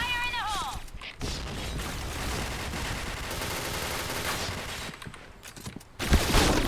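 Rapid bursts of automatic gunfire from the online shooter Point Blank ring out nearly nonstop, loud and dense with short gaps, while a player talks over the action.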